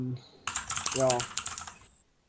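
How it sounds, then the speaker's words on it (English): Fast computer keyboard typing, close and brief, a burst of rapid clicking keystrokes lasting under two seconds after a short voice at the start. "I can hear his fucking keyboard though, Jeepers Creepers"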